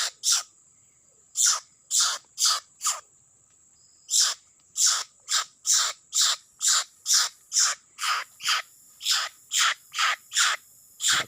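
A netted wild bird held in the hand squawks repeatedly, a rapid string of harsh, loud, close calls in an uneven rhythm with short pauses between bursts.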